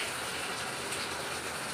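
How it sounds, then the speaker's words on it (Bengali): Rain beginning to fall, a dense even hiss of drops filling the whole scene without pause, steady and fairly loud with no voices. "এই দেখো বৃষ্টি শুরু না হতে হতেই"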